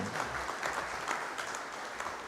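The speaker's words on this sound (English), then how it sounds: "they deserve a big round of applause" Applause from an anniversary celebration audience, a faint, steady patter of many hands clapping at some distance, with no voices over it.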